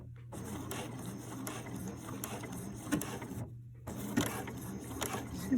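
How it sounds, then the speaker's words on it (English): A sewing machine stitching a blind hem on a pair of pants runs steadily at close range, a continuous mechanical hum with a brief pause partway through before it starts up again. "the machine is going to sew straight over here, and then every couple stitches it's gonna bounce over here"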